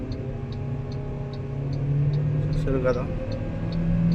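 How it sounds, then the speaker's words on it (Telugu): An MG Astor car engine revs under hard acceleration from a standstill, a steady droning rise in pitch heard from inside the cabin, with a voice speaking briefly over it and faint regular ticking. "చాలా గట్టిగా అరుస్తుంది ఇంజన్"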